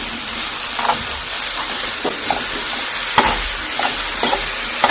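Apples cooking with brown sugar and a pinch of salt over slow heat sizzle loudly and steadily in a pan, with occasional soft spoon scrapes and taps as they are stirred.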